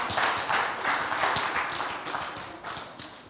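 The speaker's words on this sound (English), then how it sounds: "You need to clap for me." A church congregation clapping, a fairly close burst of applause with rhythmic claps that slowly fades over a few seconds.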